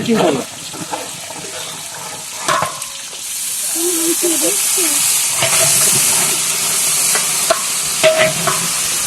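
Goat meat frying in a pan, a steady broad sizzle that swells and holds, broken by clattering stirs and occasional scraping, close and fairly loud with faint voices in the background.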